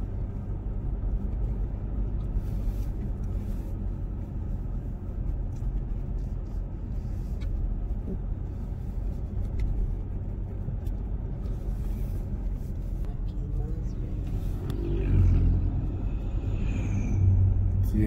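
Steady low vehicle rumble of traffic on a winding high-altitude mountain road in the páramo above 3000 metres, heading down toward Pujilí, with a slightly louder passing vehicle near the end; no talk.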